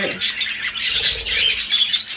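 Pet lovebirds squawk and chatter in a breeding setup with bird boxes, a dense run of sharp, high calls close by with no talk over them.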